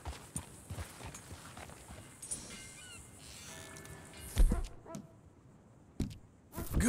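Faint, steady clip-clop of horse hooves walking at a stable in the video game Red Dead Redemption 2, quiet and somewhat distant, with ambient farm and bird sounds and a few louder knocks near the end.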